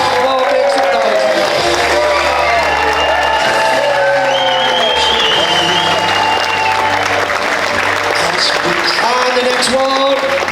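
Loud, sustained applause and cheering fill a magic show marking 70 years of a Middlesbrough magicians' circle, with a crowd clapping continuously while music plays and voices carry over it.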